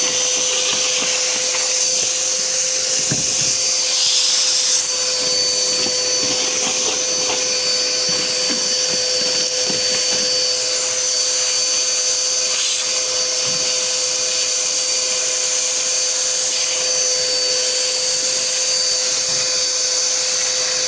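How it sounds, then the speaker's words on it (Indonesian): A vacuum cleaner runs steadily and loudly throughout, its constant motor whine holding a strong tone with broadband hiss and no voices. "tapi vacuum sendiri"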